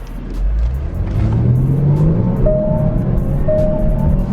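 A luxury SUV with a sporty V6 accelerates hard, its engine note climbing in a loud, close rumble with a rising whir over about four seconds.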